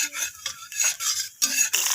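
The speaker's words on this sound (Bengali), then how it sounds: "এরপর এইভাবে নাড়াচাড়া করে নিচ্ছি" A utensil scrapes and stirs fried vegetables with bay leaf, dried red chilli and five-spice tempering in an oily pan, making close, rhythmic rasping strokes with short pauses between.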